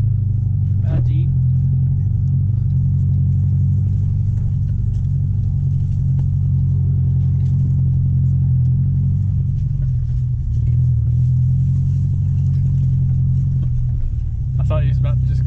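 A Jeep engine gives off a loud, continuous low rumble close by, holding steady for the whole stretch, with a few brief clatters near the end.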